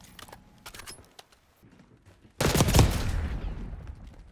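Gunfire in a ranked online shooter match, a sudden loud burst of rapid shots after quieter clicks and game noise, close and dense for about two seconds.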